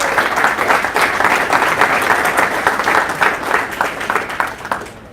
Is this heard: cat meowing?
no